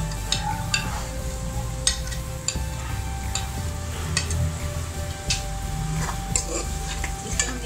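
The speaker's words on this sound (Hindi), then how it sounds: "अब अदरक लहसुन का पेस्ट डाल देंगे" Ginger garlic paste fries with onions in a pan on medium heat, giving a steady close sizzle broken by scattered clicks and scrapes of stirring, with no talk.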